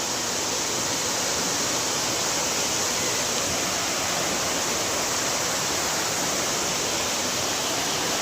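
Dense, steady roar of a waterfall at Dhonabanda near Vijayawada, loud, close and unbroken, with no voices.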